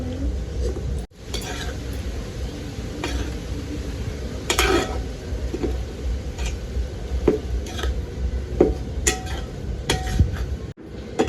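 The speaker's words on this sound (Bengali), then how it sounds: "আপনারা এইভাবে আস্তে আস্তে ঘন ঘন নাড়া দেবেন নাহলে তলে লেগে যাবে" Coconut and sugarcane jaggery being stirred in a pan (kadai), with steady scraping and clinking of a spoon against the metal, a soft bubbling sizzle underneath, and repeated sharper knocks throughout, close and fairly loud.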